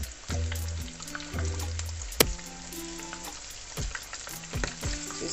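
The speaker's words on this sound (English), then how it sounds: "It's frying now." Akara bean fritters fry in hot oil with a constant close sizzle and bubbling crackle. Soft stirring thumps and clinks sound at intervals over the frying.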